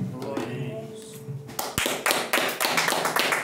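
Quiet room tone gives way to a burst of clapping from a church congregation, irregular and fairly close, continuing steadily to the end.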